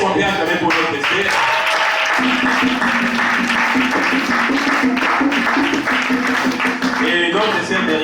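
A church congregation applauds and cheers for a guest, with loud, dense clapping that fills the room throughout while voices call out and music plays underneath.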